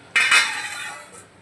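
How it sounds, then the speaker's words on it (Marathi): A metal lid set down on a pot of simmering mutton paya curry, one sharp clink followed by a short ringing metallic tail, close and alone. "आता यावर झाकण ठेवून याला पाच ते दहा मिनटं छान अशी मंद आचेवर उकळू देणार"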